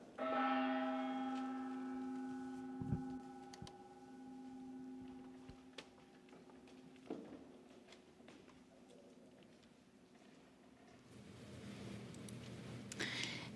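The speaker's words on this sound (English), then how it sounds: "we will have the gong of the owner here" A gong is struck once to open the games at a Freestyle Chess Grand Slam tournament in Las Vegas, ringing as a sustained metallic tone that slowly decays, with a few soft knocks in a quiet hall behind it.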